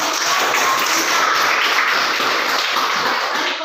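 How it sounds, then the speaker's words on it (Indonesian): A class of students applauds together during a social studies lesson, a dense, even wash of clapping that holds steady and loud for a few seconds. "Ya, kita beri tepuk tangan."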